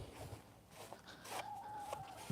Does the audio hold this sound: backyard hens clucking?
yes